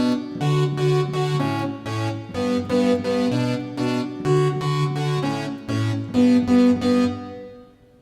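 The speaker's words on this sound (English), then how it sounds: "One is kind of a pulse kind of pad," Arpeggiated pulse synth pad on a keyboard plays steady quarter-note chord pulses with stepping pitches, sustained and fairly loud throughout with no voices.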